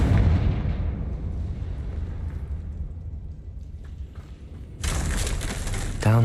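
A Confringo spell explodes in Hogwarts Legacy, a loud deep blast over game rumble with a bright crackling burst near the end.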